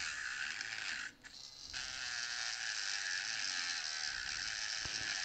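A rotary grinder grinding down resin, a loud continuous high-pitched whine held close, briefly dipping once before carrying on steadily.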